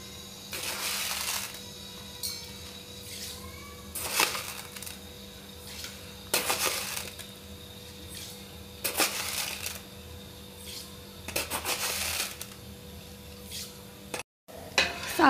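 A spoon stirring sugar into water in a pot while making syrup for gulab jamun: repeated metallic scraping and clinking in short bursts every couple of seconds, close and moderately loud over a low hum, no talk.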